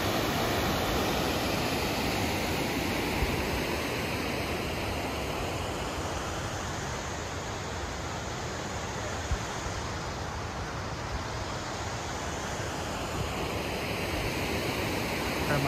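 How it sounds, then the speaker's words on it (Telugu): Waterfall in the USA sending a broad, constant roar of rushing water, steady and full with no breaks, while a voice talks faintly underneath. "సో వాటర్ ఫాల్స్ అయితే చాలా బ్యూటిఫుల్గా ఉందండి నిజానికి."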